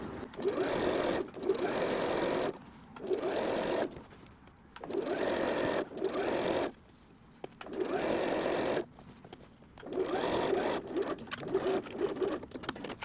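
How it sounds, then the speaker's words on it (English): Sewing machine stitching a mending patch seam with backstitching, running in repeated bursts of steady mechanical whirring separated by short pauses, close and clear with no talk. "We're just sewing in the same spot that we took out before. Make sure you backstitch and overlap."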